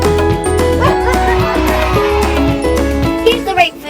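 A dog on a farm gives a series of rhythmic, toy-like barks over a repeating musical backing, with a voice briefly in the mix and a busier squeak near the end.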